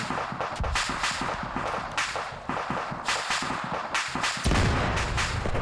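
Rapid gunfire rattles through a German versus Russian combined arms PvP battle in a video game, with dense, loud, repeated shots and sharp cracks close by, punctuated by a heavier blast near the end.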